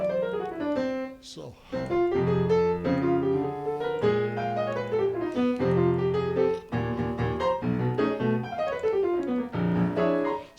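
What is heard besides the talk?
whole tone scale played on piano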